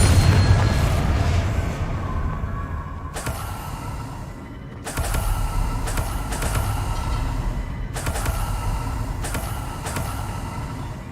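Repeated Confringo spell blasts in the Hogwarts Legacy video game, heavy booming explosions with low rumbling tails recurring every few seconds across a continuous dense background.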